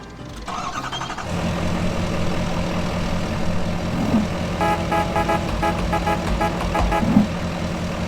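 A GMC work truck engine in Farming Simulator 25 cranks and starts, then settles into a steady rumbling idle with a couple of faint knocks over it.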